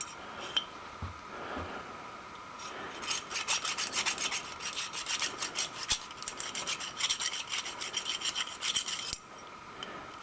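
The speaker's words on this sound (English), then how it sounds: "So we had to come up with a small chainsaw file." A small chainsaw file rasps back and forth through a hole, a dense run of scraping strokes close up, preceded by a few light knocks and handling sounds, with no talking.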